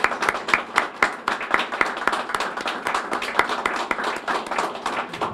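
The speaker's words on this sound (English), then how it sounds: "let's have a round of applause for Freeman Johnson here" People at a Pearl Harbor recognition ceremony clap for 102-year-old Freeman Johnson, a smaller group whose individual claps stand out in a fairly rhythmic, moderately loud patter lasting several seconds.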